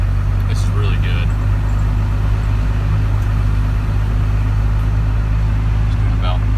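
Cab view of a Cummins diesel truck cruising at about 1,000 RPM in fifth gear, a steady low drone with a constant hum, loud and continuous, with someone talking over it.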